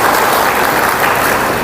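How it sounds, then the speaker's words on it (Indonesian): An audience at a seminar applauds in a dense, even wash of clapping that holds steady at full strength throughout. "Tepuk tangan untuk Bapak Ibu semua."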